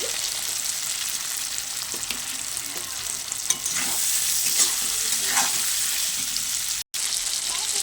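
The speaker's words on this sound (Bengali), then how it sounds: "ভেজে রাখা আলু আর চিম একসঙ্গে দিয়ে দেবো" Fried potatoes and flat beans with chopped tomato hiss steadily in an oiled pan, a close continuous sizzle with light stirring scrapes and a brief dropout near the end.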